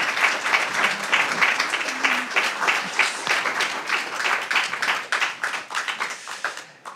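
Audience applause at a French literary talk with author Pascal Quignard: many hands clapping in a brisk, uneven patter that holds steady, then thins and fades away in the final second.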